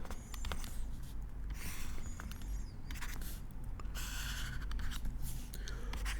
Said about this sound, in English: so let me draw here